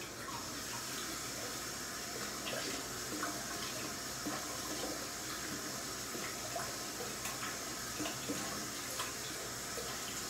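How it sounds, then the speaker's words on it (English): Tap water runs steadily into a sink while soap is rinsed off a face at night, a constant soft splashing hiss with small irregular spatters, fairly quiet and with no talking. "what I'm going to start doing is going to wash the soap off my face"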